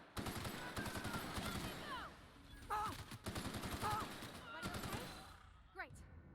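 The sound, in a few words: gunfire in the video game The Outer Worlds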